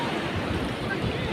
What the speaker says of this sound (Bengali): ঢেউ আসছে আসছে লাফাও, এই দেখো এই আসছে।